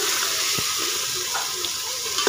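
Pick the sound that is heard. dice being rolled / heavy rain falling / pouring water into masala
pouring water into masala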